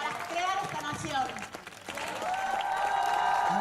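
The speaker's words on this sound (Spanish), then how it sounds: "Muchísimas gracias, fuerte el aplauso." An audience at a live feminist community event applauds, with steady clapping and a few cheers mixed with a speaker's voice over a PA across several seconds.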